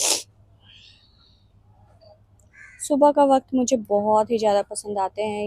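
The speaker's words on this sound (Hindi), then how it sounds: "ये जो चिड़ियाओं की आवाज़ आ रही होती है" Faint morning birdsong with scattered chirps and crow-like calls sounds at a distance outdoors, mostly alone at first, before a voice begins talking over it.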